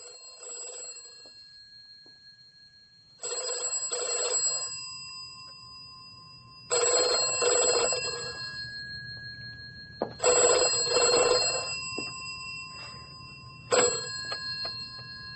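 An old-fashioned telephone bell rings in four long, loud bursts at steady intervals, separated by quiet pauses with a faint low hum underneath; no one speaks.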